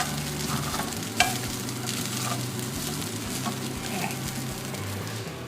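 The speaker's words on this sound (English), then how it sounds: "I turn down the heat for this. So that's at a low temperature. I don't want it to over fry." Fried rice sizzling in a pan over low heat makes a constant, dense crackle. Occasional stirring scrapes come through, with one sharper knock near the start, all close and even in level.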